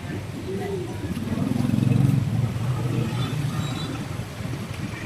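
Street traffic in Phnom Penh rumbles past at moderate distance, with motorbike and car engines swelling and fading in a continuous wash under faint background activity.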